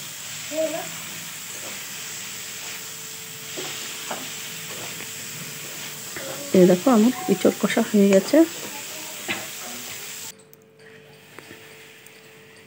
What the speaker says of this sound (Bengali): এভাবে মশলা দিয়ে ইঁচড় ভাজা